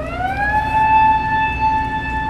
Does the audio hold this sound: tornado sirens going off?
yes